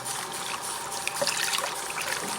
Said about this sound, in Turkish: Tasımızı da yıkayalım